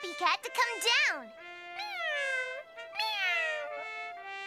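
Several drawn-out meows from a cat, close and clear, coming in quick succession with short pauses between them.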